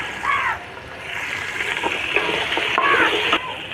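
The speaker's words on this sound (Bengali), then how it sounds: "যতক্ষণ সবজি ভাজা হচ্ছে আমি একটা মশলা বেটে নেব।" Vegetables fry with salt and turmeric for khichuri, giving a steady close sizzle with soft splashy crackles and a few stirring scrapes throughout.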